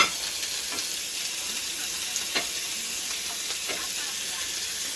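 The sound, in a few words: oiled steak sizzling on the grill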